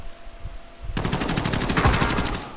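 In Call of Duty: Modern Warfare, a rapid burst of automatic gunfire starts abruptly after a quiet moment and keeps up a fast, loud, close rhythm to the end.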